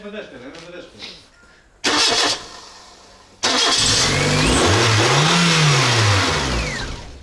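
A Volkswagen Jetta engine cranks, catches and then runs loud and close, its revs rising and falling unevenly. A brief voice is heard at the start.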